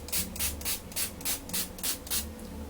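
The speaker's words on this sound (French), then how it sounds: "maintenant un coup de spray fixateur" Makeup fixing spray misted in about eight quick, evenly spaced hissing puffs, close and crisp, with no talking.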